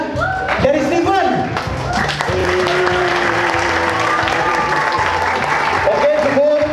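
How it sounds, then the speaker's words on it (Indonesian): An audience at a Christmas gathering claps for Steven, a full burst of applause lasting several seconds with a voice and tonal sounds running over it. "Kasih tepuk tangan ya, dari Steven"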